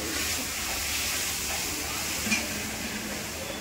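Steam hisses steadily from a kadai (wok) on a home stove, a continuous close sizzling hiss with no talk.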